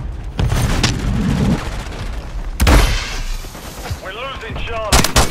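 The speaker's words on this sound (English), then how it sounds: "Stun grenade out!" Stun grenade going off in Call of Duty Modern Warfare III multiplayer, deep booming blasts and gunfire crackle in a busy game soundscape, with a sharp bang near the end and in-game voice callouts over it.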